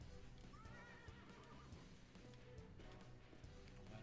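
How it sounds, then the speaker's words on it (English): A horse in Call of Juarez Bound in Blood gives a few shrill whinnies over quick clip-clopping hooves, fairly close, with a soft low rumble of game ambience underneath. "Oh, there's a horse."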